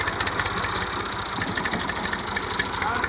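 A tractor engine runs steadily in a village, a continuous rumbling mechanical drone with a faint knocking pulse, moderately loud and close, with no pauses.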